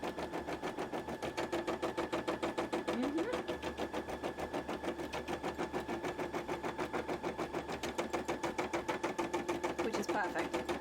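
A sewing machine stitches cosplay fabric in a fast, steady mechanical rattle, its needle strokes repeating evenly and close throughout, with brief pauses and a voice talking faintly underneath.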